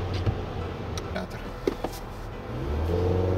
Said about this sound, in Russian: Заминка на старте, такая полусекундная. Вот, зависает на 5000 оборотах. и идет разгон.